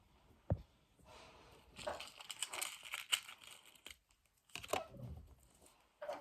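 Crinkling and tearing of packaging as a parcel holding a seashell bracelet is unwrapped, in close, uneven bursts of rustling with short quiet pauses between them.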